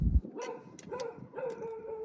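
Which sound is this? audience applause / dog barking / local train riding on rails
dog barking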